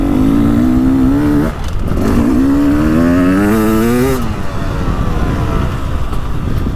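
A 2023/24 Beta 300 Race Edition two-stroke motorcycle being ridden, its engine loud and close with a buzzing note that climbs through the gears, dips briefly on a shift, then rises again and holds steady.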